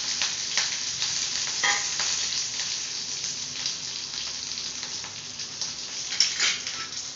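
Mustard seeds, urad dal, curry leaves and onion frying in hot oil for a tempering, giving a dense, bright, continuous sizzle with small crackles and pops, close and steady throughout, with no voices.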